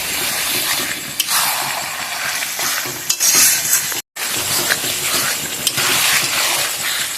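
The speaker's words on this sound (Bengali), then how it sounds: "এখন কিন্তু কষানোর পালা, শুধু কষাবো, দেখে রাখবো আর কষাবো।" A spoon stirs mutton kosha in a pot, scraping and clinking against the metal over a sizzling fry, in close, busy bursts with one brief pause.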